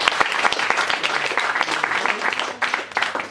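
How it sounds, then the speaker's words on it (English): A crowd at a closing ceremony gives a loud, sustained round of applause, with dense overlapping claps close by and no talk over it. "Let's give her a round of applause as well."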